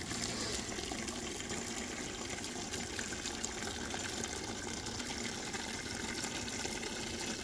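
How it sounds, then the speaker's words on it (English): Steady rushing water pours continuously into a bucket three-quarters full of black walnuts, a dense even gush with no pauses and no voices. "Now we just got to fill it with water."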